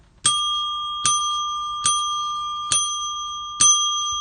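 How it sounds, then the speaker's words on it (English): Small bell rung five times at a steady pace, each bright ding ringing clearly and decaying slowly, close and alone. "Almost forgot to ring the bell there."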